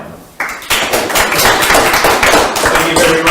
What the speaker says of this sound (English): round of applause for all our speakers tonight